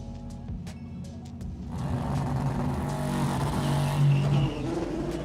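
A race car roars past in played-back motorsport footage, its engine note building into a loud sustained drone that rises in pitch and holds steady with no talk over it.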